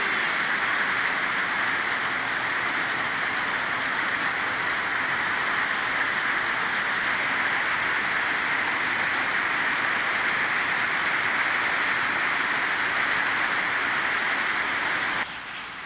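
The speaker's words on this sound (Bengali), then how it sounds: "প্রচণ্ড বৃষ্টি হচ্ছে বন্ধুরা, দেখুন অন্ধকার করে ঝুমঝুম করে বৃষ্টি।" Heavy rain pours down in a dense, unbroken hiss that stays loud and even throughout before dropping off abruptly near the end.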